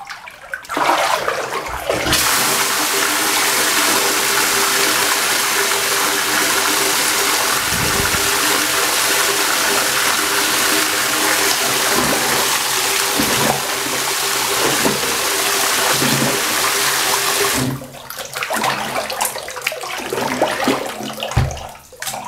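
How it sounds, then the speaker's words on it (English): Warm water runs in a steady, loud gush for about fifteen seconds, splashing continuously as it pours behind a person's neck, then cuts off abruptly, leaving quieter dripping and handling sounds. "So now I shuffled some warm water behind my neck."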